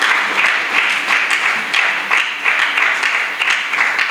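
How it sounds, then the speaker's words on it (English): Sustained applause and clapping from an audience at a university IT and travel federation gathering, loud and continuous with a slightly pulsing texture. "So please, let's give our claps worthy the president."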